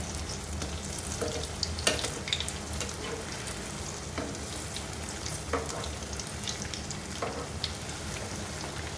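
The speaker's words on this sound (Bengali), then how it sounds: "তেলের টেম্পারেচারটাকে চেক করে নিয়ে একটু গরম তেলে এগুলোকে দিতে হবে" Malpoa batter fries in hot oil with a dense, continuous crackling sizzle, close and fairly loud, with a few brief sharper pops and spatters.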